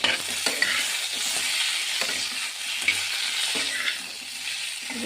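Spices for a tangra fish curry are sautéed in a pan, with a continuous mid-level sizzle broken by repeated spatula scrapes and light knocks against the pan.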